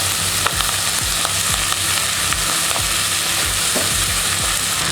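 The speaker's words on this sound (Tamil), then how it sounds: "ரைஸை நல்லா ஆட் பண்ணிவிட்டு ஒரு 2 நிமிஷம் அது நம்ம நல்லா அந்த நெய்யிலே கிளறி விடணும்" Rice being stirred in hot ghee for jeera rice, a constant sizzle with rhythmic scraping strokes of a spoon against the pan, close and steady with no talking.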